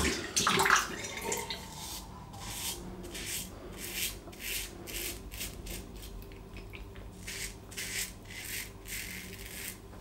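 A razor with a fresh blade glides over lathered shaving soap in repeated short scraping strokes, close and fairly quiet, with no talk.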